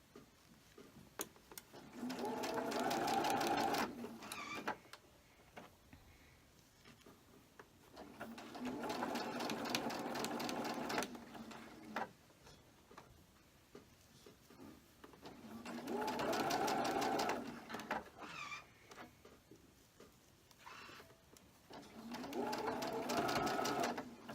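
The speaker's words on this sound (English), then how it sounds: "we're still sewing the 1/4 of an inch" A home sewing machine stitches a quarter-inch seam on a beginner quilt block, running in four steady whirring bursts of a few seconds each with quiet pauses between, close and clear.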